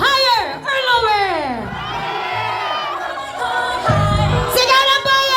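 Wedding guests shout and cheer together as a loud, lively crowd during the garter game, with children's and adults' voices rising in excited whoops and calls, swelling again toward the end.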